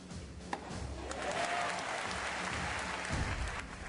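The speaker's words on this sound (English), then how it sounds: "the crowd support was behind Federer, so mass elation greeted the first break going to the Swiss." Wimbledon crowd in a tennis stadium breaking into sustained applause after a break of serve, swelling to a steady roar of clapping and cheers for several seconds.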